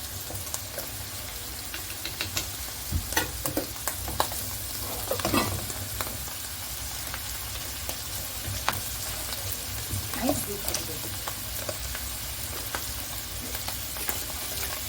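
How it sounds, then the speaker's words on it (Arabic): Flour browns in a pan alongside mushrooms and onion, sizzling steadily under occasional stirring scrapes over a low background hum. "تركني المشروم والبصل على جنب وتحمري الدقيق شويه"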